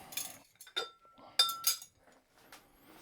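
Hot sterilized glass jars set down one after another on a hard surface while making elderflower juice, giving several sharp, close clinks separated by short quiet gaps.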